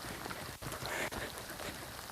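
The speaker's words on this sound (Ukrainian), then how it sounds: "Дощик паде, земля радіє." Light rain falling in a Carpathian forest during a mushroom hunt, a soft steady patter that stays faint and continuous with no voices.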